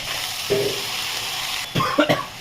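Moth beans (matki) tipped into a hot pan give a steady sizzle throughout, with brief louder clatters of the beans landing and being stirred near the end.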